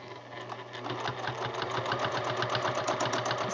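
Sewing machine running continuously while free-motion quilting a stippling pattern, a rapid steady mechanical stitching rattle that builds slightly in speed, close and alone without talk.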